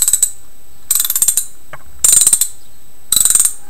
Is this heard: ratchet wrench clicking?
yes